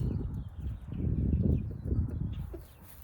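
Low, busy clucking from several chickens, steady and fairly close, with scattered scratchy movement and no talking.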